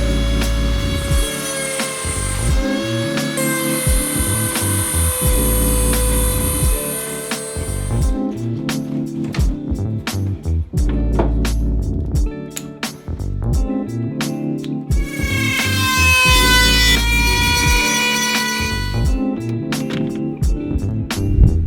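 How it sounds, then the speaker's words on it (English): A Dremel rotary tool cuts through a car's rear diffuser on an MK7 Golf GTI to fit a tow bar, with loud high-pitched whining bursts separated by short pauses and clattering. "it's time to get the Dremel and whiz this out."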